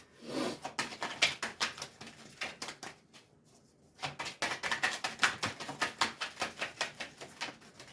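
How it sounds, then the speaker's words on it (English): Tarot cards being shuffled, a quick run of crisp papery riffling taps close up, pausing briefly midway before a second burst of rapid shuffling. "Two more shuffles and I'll pull from the top."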